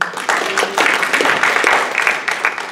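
A room full of people applauding, a dense steady wash of clapping from a crowd that holds for nearly three seconds before easing slightly.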